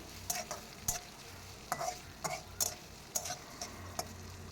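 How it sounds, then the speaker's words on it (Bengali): Onions, chilies and whole cumin frying in oil for a rui fish and pumpkin curry, a quiet steady sizzle broken by repeated crisp taps of a spoon stirring against the pan at an uneven pace. "পেঁয়াজ এবং মরিচগুলোকে হালকা ব্রাউন কালার করে ভেজে নেব আর এ পর্যায়ে আমি দিয়ে দিচ্ছি ওয়ান থার্ড চা চামচ আস্ত জিরা"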